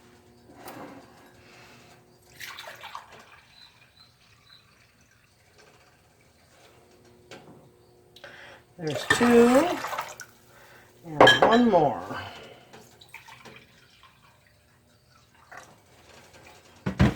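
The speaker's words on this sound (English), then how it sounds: "to that, I'm going to add 3 cups of vinegar" Vinegar poured into a pot of water for pickling brine, splashing in two short, fairly loud liquid bursts between quiet stretches, with a voice speaking nearby.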